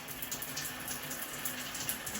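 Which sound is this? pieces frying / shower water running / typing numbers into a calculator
shower water running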